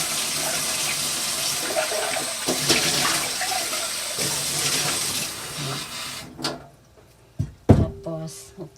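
Tap water runs steadily into a metal rice pot in a home kitchen, then cuts off and is followed by a few clanks and splashes as the pot is handled.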